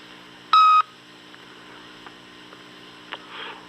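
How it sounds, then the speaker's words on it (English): A single sustained electronic beep, loud and clean, followed by quiet line hiss with a few faint clicks. "In a few seconds from now, you'll hear a beep."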